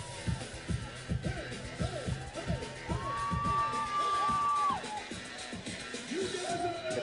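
A large stadium crowd at a beach volleyball match in Long Beach on a boiling hot day keeps up a steady cheering roar, with distant whoops and shouts rising over it and a long whistle-like tone partway through.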